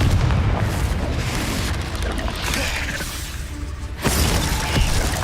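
A Confringo explosion spell cast in the Hogwarts Legacy video game, heard as a loud, rumbling blast with crackling debris and a sharp second burst near the end.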